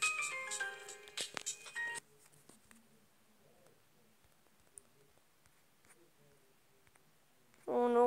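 A phone rings out loud and bright for about two seconds, its melodic tone ending abruptly, then returning briefly near the end; quiet clicks and faint room noise fill the gap between.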